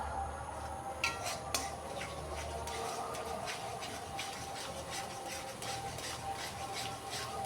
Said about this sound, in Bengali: চারমগজ আর কাজু বাদামটা দিয়েও আরও কিছুক্ষণ কষাতে হবে